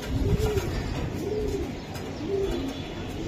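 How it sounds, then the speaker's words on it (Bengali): Kashmiri racing pigeons give low, throaty coos, three clear rolling phrases spaced about a second apart, close and moderately loud over background rustle. "ও একদম কাশ্মীরি রেসার ভাই"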